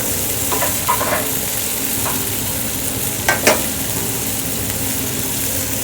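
A soft omelette with tomatoes fries in a pan, making a loud, continuous close sizzle with a few brief scraping or stirring touches partway through and no talking.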